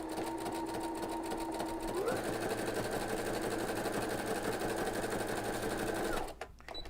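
A sewing machine fitted with a binder foot stitches steadily and continuously for about six seconds, its motor whirring at an even pace, then stepping up to a faster, higher hum before stopping abruptly near the end.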